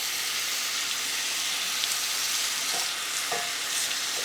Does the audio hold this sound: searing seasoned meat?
yes